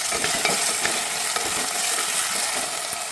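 Potatoes, peanuts and green chili fry in a pan and are stirred, giving a loud, close, continuous sizzle with scraping stirring sounds mixed in.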